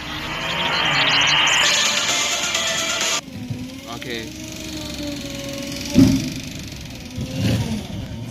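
A garbage truck engine rumbles and revs, shifting in pitch, with a sharp clank midway and voices talking over it.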